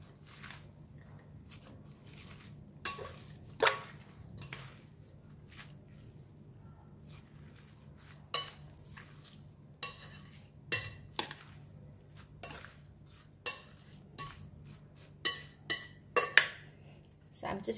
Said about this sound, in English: So then we're just going to mix it.